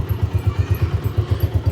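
A 125 motorcycle idles close by, its single cylinder thumping in a steady, even rhythm of about seven beats per second with a light mechanical clatter.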